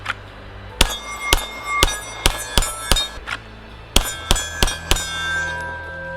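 Rifle bullets, such as 5.56 rounds, strike AR500 steel targets, producing a string of sharp metallic clangs and pings in irregular bursts, some with a brief ringing tail, with no voices.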